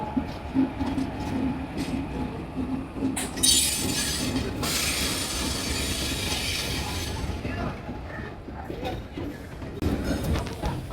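A train rolls along the rails with a steady, loud rumble and a hissing, squealing edge that swells for a few seconds in the middle, then settles back to a continuous roar.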